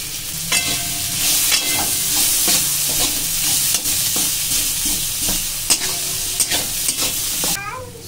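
Four small boiled and peeled potatoes, broken up by hand, are stirred in a hot pan. A loud, steady sizzle runs throughout, with repeated scraping stirs and occasional sharp clinks, close up and with no talking.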